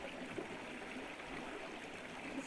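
Water flows past rocks in a natural setting, a constant, even rushing and trickling wash heard alone at moderate volume.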